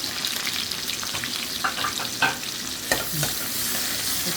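Chopped ginger frying in a pan as it is stirred, a continuous close sizzle with scraping strokes and small knocks of the utensil scattered through, no speech.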